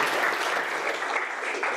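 An audience at a public diplomacy talk welcomes the guest speaker with steady, even applause, a continuous wash of many hands clapping throughout.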